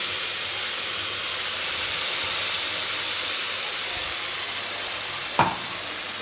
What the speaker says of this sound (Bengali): তেল দিয়ে সর্ষে পোস্ত কাঁচা লঙ্কা বাটাটা, অল্প একটু নুন আর জল দিয়ে বাটা মিশ্রণটি কড়াইতে এবার দিয়ে দেবো